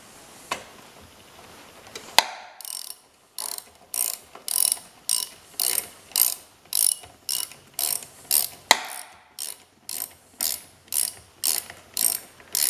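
A hand ratchet tightens nuts on bolts in rapid, close clicking strokes, running as a long rhythmic series of even pulses after a few initial knocks.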